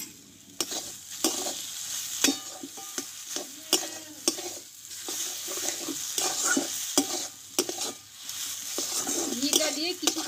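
Potato filling with ghee stirred in a hot pan, a continuous sizzle broken by repeated scraping strokes and sharp taps of a spoon against the pan, with a voice talking over it at times.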